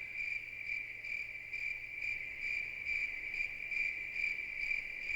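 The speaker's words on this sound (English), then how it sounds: "Those are loudest crickets ever." Crickets chirp in Lunar Eternal Blue, a loud, steady high trill pulsing in regular rapid bursts over a quiet low hum, with no voices.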